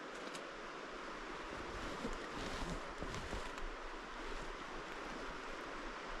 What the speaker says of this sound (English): That river, that creek's so loud.